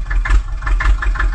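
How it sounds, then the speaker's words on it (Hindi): Mini tractor engine idling low and steady while reversing with a trolley attached during jamun loading, a continuous rumble with slight rhythmic pulsing, fairly close and loud, no talk over it. "मिनी ट्रैक्टर, दोनों ट्रैक्टर पीछे हो जाओ थोड़ा"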